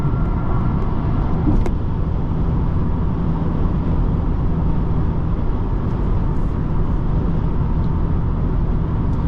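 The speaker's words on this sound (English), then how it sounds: "driving this car on the highway, it feels super smooth, super planted" A 2023 MINI Cooper Countryman S cruising on the highway, giving a steady, loud low-frequency road and engine drone with constant tire and wind rumble throughout, no talking.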